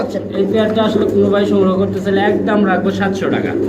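Pigeons at a farm give repeated soft, throaty cooing calls in a close, busy chorus, with a person talking over them.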